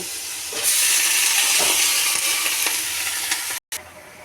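Greens and fish fry with spices in a hot pan, giving a loud, continuous sizzle and spatter that cuts out briefly near the end. No voices are present.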